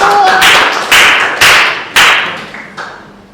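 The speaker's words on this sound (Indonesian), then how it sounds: "Tepuk tangan teman-teman buat kelompok 1" A handful of loud, separate claps from classmates for a presenting group in a classroom, several sharp close bursts at uneven intervals, each fading quickly, the last few softer.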